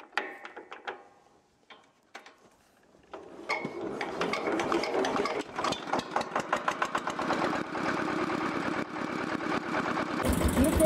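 A walk-behind power tiller is cranked with its starter and decompression valve. A few clicks and faint turnover sounds give way to the engine catching and settling into a loud, rapid, steady putter.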